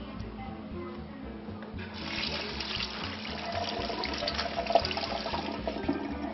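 Peeled shrimp being rinsed under a running kitchen tap: a steady rush of water streams into the sink and grows louder as the flow strengthens, with no talking.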